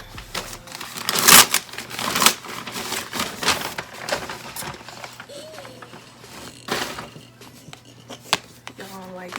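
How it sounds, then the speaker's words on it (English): Scissors cutting into the packaging of a Dsoar transparent lace wig, giving scattered snips and crinkly plastic rustles while someone talks over much of it. "I'm gonna cut the package open because I ain't opened it yet"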